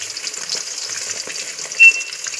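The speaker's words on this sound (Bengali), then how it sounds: "ওই ভাজা তেলটাতেই মাছগুলোকে একটু ডিপ ফ্রাই করে নিচ্ছি" Rohu fish pieces rubbed with salt and turmeric, deep frying in hot oil: dense continuous crackling sizzle, close and steady, with no voices.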